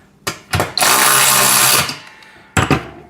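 A power tool whirs in short bursts and then one longer sustained run while tightening a nut during assembly of a home gym pec deck and rear delt machine, followed by another quick burst.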